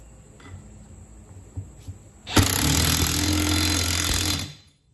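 An impact gun running up a 21 mm lug nut on a trailer wheel hub, a loud, close, continuous rattling buzz lasting about two seconds after a quieter lead-in, then spinning down.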